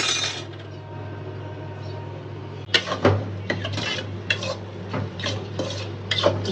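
Spices tempered into a pot of mango dal: a steady low cooking hum, then from about the third second a run of sharp metallic clinks and scrapes as a utensil stirs against the pot, close and fairly loud, with no talking.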